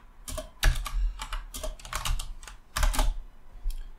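Code being typed on a computer keyboard while writing a Godot shader fragment, several quick clusters of crisp, close keystrokes with brief pauses between them.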